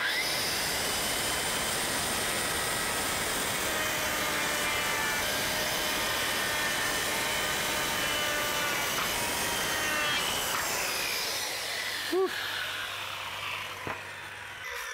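A power saw cuts cement board outdoors with a loud, continuous grinding whine for about twelve seconds, then winds down and stops, leaving a few faint knocks.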